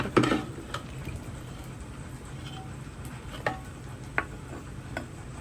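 Potatoes being stirred in a pot of nihari curry, with soft scraping and scattered light clicks of the spoon against the pot over a steady low background hiss.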